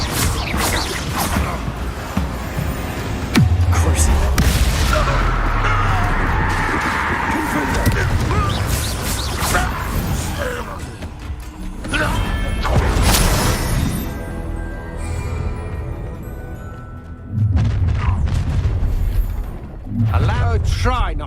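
Repeated Confringo fire spells bursting in Hogwarts Legacy combat on hard mode, loud crashing blasts and impacts spread across a busy battle with game voices talking throughout.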